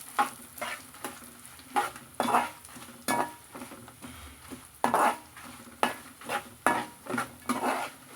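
Green chillies fry and sizzle in a pan for a Telugu ridge gourd and coriander chutney, with a spoon repeatedly scraping and clinking against the metal in a steady stirring rhythm, close up and without talk.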